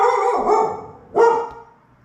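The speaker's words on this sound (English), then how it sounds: "Dog scared the crap out of me." A dog gives two loud, close barks about a second apart, each trailing off, with no talk over them.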